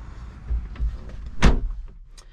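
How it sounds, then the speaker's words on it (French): The door of a 2013 Peugeot 5008 HDi 112 Allure minivan is shut from inside with one loud, solid thud, preceded by soft handling noises and followed by a quiet interior. "je ferme la porte du véhicule pour être un peu plus isolé de l'extérieur"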